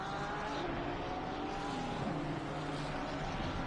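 Race cars accelerate hard in a sim racing game at Zandvoort, one engine note climbing through the gears as a dense, continuous whine over the roar of other cars, with no talking.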